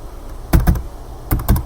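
Computer keyboard keys being tapped in two quick pairs of sharp clicks, close and distinct against quiet room noise.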